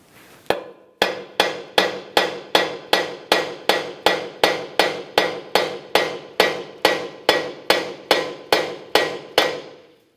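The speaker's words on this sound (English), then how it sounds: "Continue on with a hammer." Steady, evenly spaced hammer blows on a steel steering knuckle of a 2003-2007 Honda Accord, about twenty sharp strikes in a row, loud and close with no talking.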